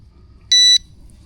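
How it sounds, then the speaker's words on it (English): A carp fishing bite alarm set up on a big river gives one loud, steady electronic beep of about a quarter second, shrill and tonal over a quiet low background rumble. "and turn on your bite alarm."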